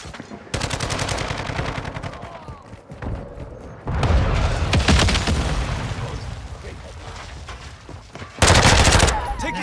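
Enemy gunfire in Modern Warfare 2 comes in sustained automatic bursts with loud blasts, heaviest in a burst at the end, while voices talk intermittently through the battle.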